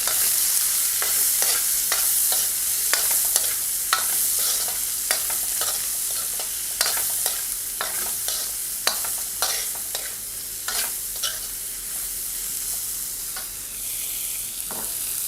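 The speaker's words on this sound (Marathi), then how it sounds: "2 वेलदोडे, 2-3 लवंग आणि 4 मिरी एवढं फ्राय करून घेऊ" Whole spices sizzle in hot oil: a piece of cinnamon, two cardamom pods, two or three cloves and four black peppercorns, the base for a spicy egg masala curry. A steady close hiss with frequent sharp crackles and stirring clicks, no voices.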